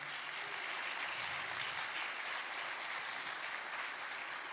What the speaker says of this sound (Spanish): Dele un aplauso ahí al Señor.